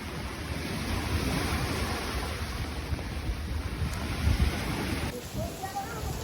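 Storm-driven waves pound the Fuerteventura coastline in a steady, loud roar of surf, mixed with gusting wind buffeting the microphone throughout, with a brief lull in the rumble near the end.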